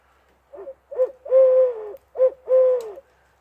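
A person imitates a hoot owl with a series of hollow hoots, a few short notes and two longer drawn-out ones, close and clear against a quiet background.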